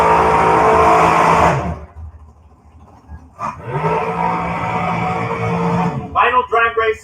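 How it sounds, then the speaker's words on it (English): A stock or super stock drag race car roars loudly at launch, its engine blaring then cutting off, followed by another heavy burst of engine roar that runs steadily before choppy revving at the end, with speech mixed in. "final drag race of the day"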